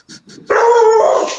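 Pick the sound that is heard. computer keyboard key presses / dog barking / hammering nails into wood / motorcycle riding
dog barking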